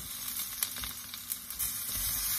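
Pork hits a hot pan of browned garlic and sizzles steadily, a bright crackling hiss with a few sharp pops, close and fairly loud with no voices.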